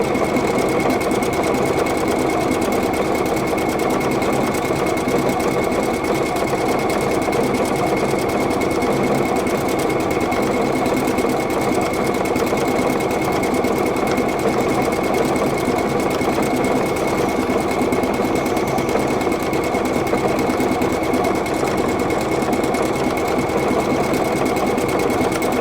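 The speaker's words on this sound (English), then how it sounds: "I'm going to stitch this decorative stitch that I designed out" A PFAFF creative icon sewing machine stitches a decorative stitch, giving a steady, continuous mechanical whir at even loudness for the whole stretch, with no talking.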